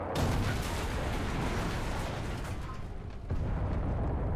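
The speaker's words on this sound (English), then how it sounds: "enemies are exploding behind me" Explosions in the video game Enlisted rumble behind the player as a continuous heavy low roar of blasts and booms, loud and dense, with a brief dip near the end before the rumble resumes.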